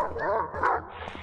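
A dog in the horror video game Silent Hill Downpour gives a short burst of whiny yips and barks at moderate volume over a low background hum.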